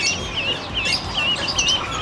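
High, repeated peeping calls from a duckling, chirping steadily over a constant background hiss.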